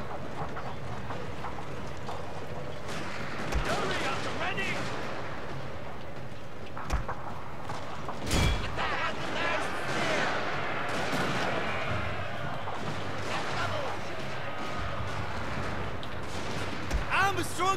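Battle sounds from the video game Shogun 2 Total War, Battle of Toba-Fushimi 1868: scattered gunfire and distant artillery thumps, fairly faint and spread through a busy background din, with a few sharper cracks standing out.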